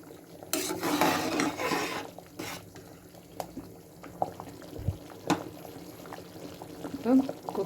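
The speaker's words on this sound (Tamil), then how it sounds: "லைட்டாக ஒரு கிளறிட்டு" A spoon stirs rice in boiling water inside a pressure cooker, giving soft scraping swishes and scattered metallic clinks against the pot. The sounds are close and intermittent, with occasional quiet speech.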